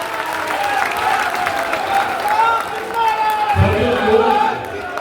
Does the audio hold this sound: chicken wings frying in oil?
no